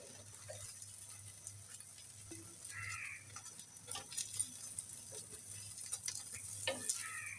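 Beaten egg seasoned with a little cinnamon frying in a small amount of oil, giving a steady faint sizzle with occasional light scraping and stirring clicks, no voices.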